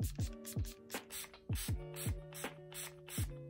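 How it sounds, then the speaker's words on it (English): A facial toner spray bottle pumped several times in quick succession, each short hissing burst paired with a clicking, ratchety trigger sound, close up. "I just spray that on my face to make me a dewy girl"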